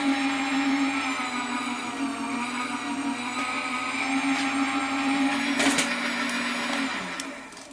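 A die cut machine runs paper for Valentine treat boxes, giving off a steady motorized hum and whir with a brief clatter near the end before it winds down.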